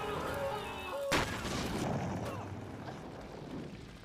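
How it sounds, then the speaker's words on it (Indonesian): An outdoor explosion hits as a sudden sharp boom, then a dense rumbling roar slowly fades over several seconds beneath a thick layer of background noise, with no talking. "mendengar ledakan di luar"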